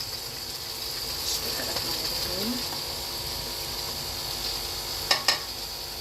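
Peas tossed into diced potatoes frying in a pan for aloo matar pulao give a steady low sizzle with stirring scrapes, then a couple of sharp utensil clinks near the end; no one speaks.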